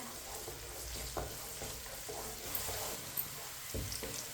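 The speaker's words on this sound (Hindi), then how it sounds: "प्याज को हल्का सा ब्राउन कर लेंगे। इसे ऐसे ही चम्मच चलाते हुए ब्राउन करना है।" Onions browning in a pan and being stirred with a spoon, a soft steady sizzle under faint scraping strokes, quiet and close with no talk.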